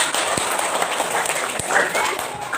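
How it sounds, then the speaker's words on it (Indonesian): Students in a classroom clap their hands together in a brief, fairly loud burst of group clapping with a couple of sharper individual claps standing out. "kita tepuk tangan"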